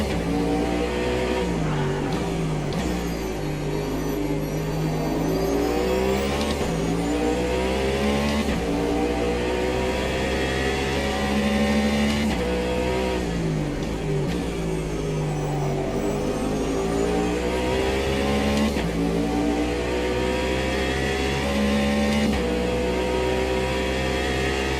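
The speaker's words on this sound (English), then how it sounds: "Can hear the GT3s going across the start-finish line." Several GT3 racing cars in Automobilista 2 roar past one after another across the start-finish line at Interlagos, engines rising and falling in pitch as they speed by, loud and continuous with no talking.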